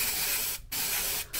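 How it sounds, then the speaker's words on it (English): Granville spray adhesive hisses out of an aerosol can close up in a garage restoring an MGB, a steady spray broken by two short pauses. "Granville spray adhesive, so yeah, that'll do the trick, I hope."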